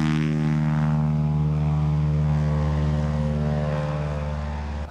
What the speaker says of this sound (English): A small plane, like a scenic flight plane, flew fairly low above this valley